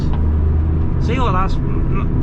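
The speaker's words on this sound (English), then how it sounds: "this should sound like. This is 3-litre V6" A 393 hp Nissan 300ZX Z32 with a twin-turbo 3-litre V6 runs with a steady, deep idle rumble close by, and a brief voice sounds over it midway.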